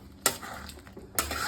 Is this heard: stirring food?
yes